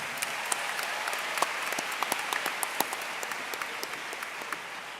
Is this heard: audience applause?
yes